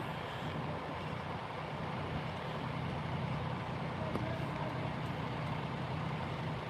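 A Prime Inc tractor-trailer backs up slowly in snow, its engine a steady low rumble that stays continuous and even throughout, with no other sounds standing out.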